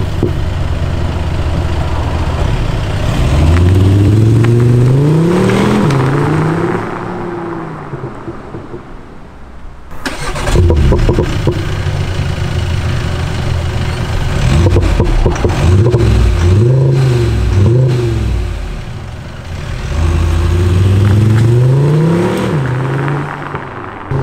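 Artificial engine sound from a sound generator in a Skoda Octavia RS diesel on its dynamic profile, a loud, deep, rumbling drone that rises and falls in pitch through several rev sweeps, with no voices.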